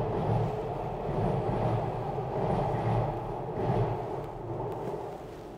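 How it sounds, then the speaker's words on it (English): A Metro train rumbles across a bridge overhead in Alexandria, a steady low roar with rhythmic surges from the cars, heard from underneath at moderate loudness without talk. "Now, you can hear the Metro above us."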